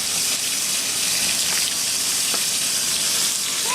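A washing machine running as water pours into it for a load of laundry, a loud, steady rushing gush close by that continues throughout without voices.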